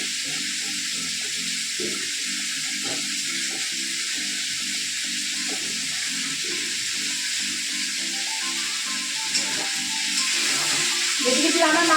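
Chicken frying in a pan on a home stove, with garlic set aside for frying red spinach, gives a steady broadband sizzle throughout, under a voice talking over it.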